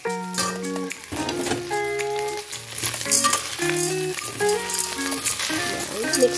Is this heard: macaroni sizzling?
yes